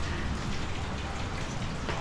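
Steady rain falling on an outdoor pool area, a constant broadband hiss with dense drop patter throughout, fairly even in loudness with no thunder or voices.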